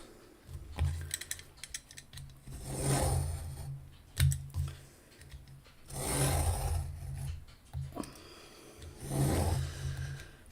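A craft knife cutting through material for framing a diamond bead picture, in three rasping bursts of repeated scraping strokes separated by short pauses, fairly close and with no talking.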